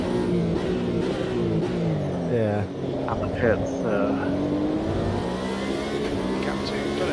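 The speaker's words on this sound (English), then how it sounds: "I definitely still have engine noise" A race car engine in the racing game Automobilista 2 during a Le Mans 6-hour event, revving and shifting through gears steadily at mid distance, with a person talking over it.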